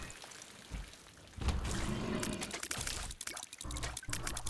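Rain in the video game The Binding of Isaac: Repentance pours in a steady rushing wash of water noise that swells louder after a moment and continues unbroken.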